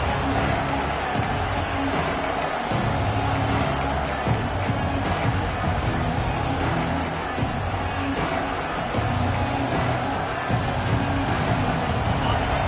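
Football stadium crowd roaring continuously at a steady, dense level, a broad wash of massed voices heard from within the stands with no clear breaks.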